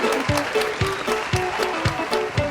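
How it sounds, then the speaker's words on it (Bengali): An audience on a quiz show claps for a correct answer, a steady rhythmic beat of claps about two per second, fairly close, with a faint tone under it. "হাততালিটা কোথায়?"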